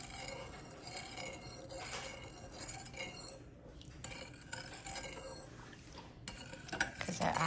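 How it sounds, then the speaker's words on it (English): Fish sauce dipping sauce with sugar, white vinegar and hot water being stirred in a bowl, a spoon clinking and scraping against the sides in a steady, continuous rhythm close by. "Okay, I'm going to mix all that until the sugars dissolve first."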